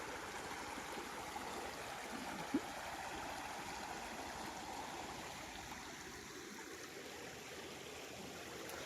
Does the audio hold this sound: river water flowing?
yes